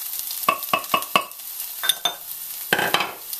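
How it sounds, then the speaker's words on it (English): Tomato puree frying in a pan while a spoon stirs it, giving a steady sizzle under several quick scraping strokes, close and fairly loud with no talking. "And just fry it up a little bit and lower your flame to medium and add your tomato puree."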